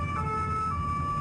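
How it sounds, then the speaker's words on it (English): Emergency sirens wail steadily through the streets of Toulouse as police reinforcements arrive, a loud continuous tone with traffic rumble underneath. "the wail of sirens echoing"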